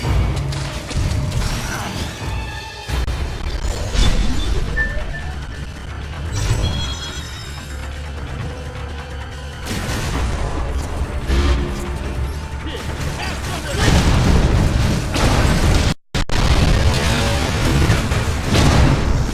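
Missile blasts, crashes and mechanical clanks in the action game Metroid Other M, loud booms scattered through a busy battle with music and voices talking over parts of it.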